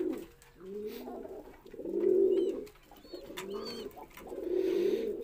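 Pigeons at a roller pigeon loft give soft, throaty repeated coos in rising and falling phrases, fairly close, with faint bird chirps and background noise around them.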